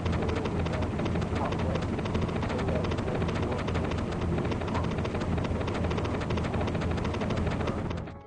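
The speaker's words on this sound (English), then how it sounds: "After the end credits, the sample can be heard very quietly under the sound of helicopters." Helicopter rotor and engine roar from the ending of the video game Front Mission Gun Hazard, a dense, loud, continuous wash of noise with rapid blade chop that holds steady before cutting off.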